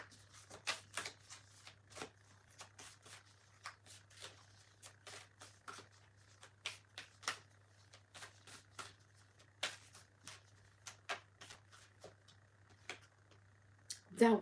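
A deck of Greek mythology oracle cards is shuffled close by, giving repeated crisp riffling snaps in uneven bursts across the whole stretch. A low steady hum sits underneath, and a voice breaks in briefly at the end.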